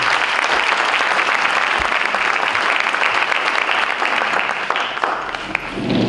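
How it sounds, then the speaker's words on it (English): An audience at an education panel event applauds the moderator with loud, continuous clapping that holds steady for several seconds before thinning out near the end. "Give a big round of applause for Mr. Bennett."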